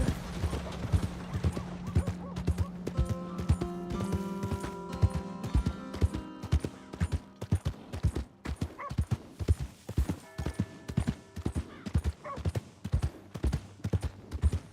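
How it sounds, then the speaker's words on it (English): Horse hooves clip-clop in a steady rhythm in the video game Red Dead Redemption 2, loud and close, with occasional tonal music underneath and a brief snort. "My horse!"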